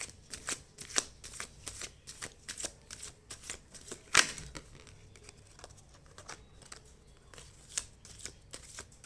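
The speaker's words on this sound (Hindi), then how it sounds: "ओके, तो लेट मी शफल इट अच्छे से" Tarot cards are shuffled close up, a run of soft, crisp flicks and riffles with one sharp snap near the middle, steady and quiet, with no talk over them.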